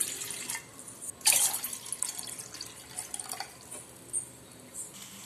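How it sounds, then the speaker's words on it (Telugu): Water poured into a pan for boiling vermicelli for a semiya curd bath gives one short splash followed by light, faint trickles and drips nearby. "ఇప్పుడు ముందుగా కొంచెం వాటర్ పోసుకొని సేమియా ఉడికించుకోవాలి"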